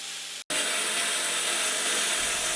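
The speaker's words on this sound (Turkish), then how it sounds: "Sonrasında daha ince zımparlarla çelik yüzeyini iyice temizliyorum." Loud, steady abrasive whir of a forged steel knife surface being sanded with finer grits, broken by a brief silent gap near the start, then continuing unbroken.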